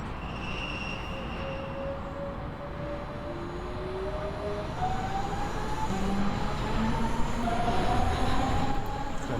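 Electric motor of a train on the Hauptstrecke Rhein-Ruhr line in Train Sim World, a steady rumbling drive with rising whining tones as it accelerates, continuous and fairly loud with no talking.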